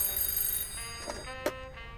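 A telephone rings in a quiet room: a steady electronic ring with a couple of brief louder bursts, heard alone with no voices.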